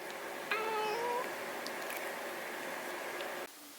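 A grumpy pet cat, just woken from a nap under a blanket, lets out a drawn-out complaining meow, close and clear over steady indoor hiss, then falls quiet.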